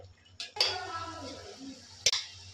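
Safflower leaf vegetable being stirred in a cooking pot gives two short, sharp metallic clinks of a spoon against the pot, close and moderately loud, with a low hum beneath.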